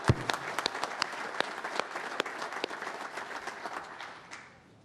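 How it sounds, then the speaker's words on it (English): Steady applause from a room of people at a public meeting on reapportionment, dense clapping that carries on for several seconds and then tapers off quickly near the end. "So would you give them a round of applause"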